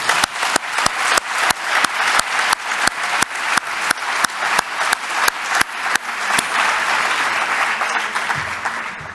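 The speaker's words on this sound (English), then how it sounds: "And I'd ask you to give another round of applause." A summit audience claps for a closing session, opening with loud, evenly spaced rhythmic claps that merge into a dense, sustained round of applause near the end.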